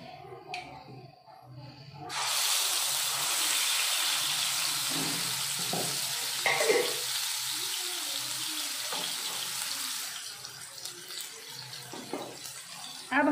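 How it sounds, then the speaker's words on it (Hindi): Gravy paste drops into hot oil in a pan and fries with a loud, broad sizzling hiss that starts abruptly and continues steadily, with occasional clinks and stirring sounds underneath, tapering off toward the end. "देखिए, तेल गरम हो गया है। अब हम इसमें डालेंगे बनाया हुआ पेस्ट, यानी कि ग्रेवी पेस्ट।"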